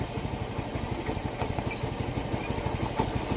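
A small engine idles steadily after its idle screw air mixture was adjusted, with a continuous low, even putter held close and alone throughout.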